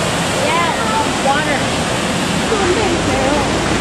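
Gooseberry Falls waterfall near Duluth, Minnesota roars as a loud, steady broadband rush of falling water, close and continuous with no break.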